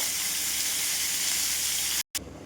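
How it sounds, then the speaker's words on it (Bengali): Whole cumin, cardamom, cinnamon and bay leaf hit hot oil, a loud, close, continuous sizzle that stops abruptly near the end and resumes more quietly. "আর ফোড়নে একটু গোটা জিরে, এলাচ, দারচিনি, তেজপাতা দিয়ে দিলাম"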